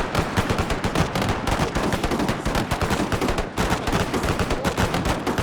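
Gatling guns fire in Total War during an Anglo-Zulu War battle: a loud, close, unbroken rattle of rapid shots runs throughout, with only a brief dip partway and no voices.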